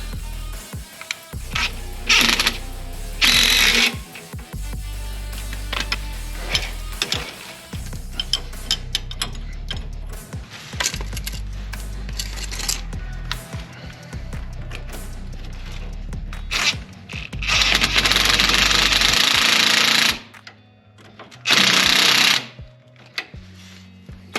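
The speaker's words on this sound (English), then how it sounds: "what I'm going to do now is just go ahead and tighten up these cinch bolts" Ratchet or power tool tightening cinch bolts on the steering tie rod links of a 2000 Jeep XJ Cherokee, with repeated short bursts of loud buzzing and clicking, scraping metal handling in between, and two final longer whirring bursts.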